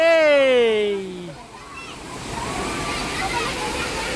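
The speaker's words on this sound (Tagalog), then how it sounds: "napakaganda ng ilog oh" River water flows and sloshes over rocks, a steady rushing wash that rises after a brief voice at the start.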